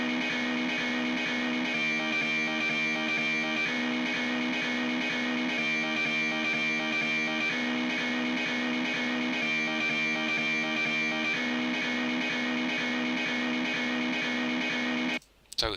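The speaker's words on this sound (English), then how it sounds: "a bit of reamping through the amp, and the cab simulator sounds like this" A distorted electric guitar riff, reamped through an amp and cab simulator, repeats in a looping pattern, its sound dense and amp-colored, playing steadily until it cuts off at the end.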